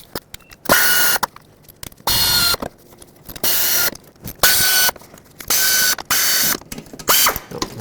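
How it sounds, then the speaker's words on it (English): An air ratchet with a short socket spins bolts loose on a 1997-2003 Ford F-150 5.4L engine, firing in six or seven loud, even bursts close by with short pauses between. "I already have a short socket on my air ratchet"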